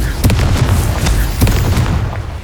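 In the video game Hogwarts Legacy, the Confringo explosive spell goes off in a series of loud, sharp booms and pops spaced across a couple of seconds over a rumbling game background.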